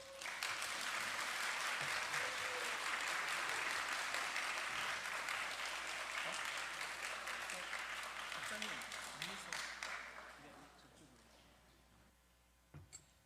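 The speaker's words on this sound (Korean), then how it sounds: "단위에 올라오실 때 큰 박수로 환영해 주시기를 바랍니다" A church congregation applauds to welcome a guest to the pulpit, sustained full-room clapping for about ten seconds before tapering off into quiet, with a couple of faint knocks near the end.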